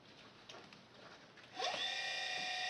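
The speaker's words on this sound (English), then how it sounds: "fan motor going off." A fan motor in a WW2-era BC-454-C receiver setup whirs on partway through, a steady whining hum rising over quiet background noise and then holding at a constant level.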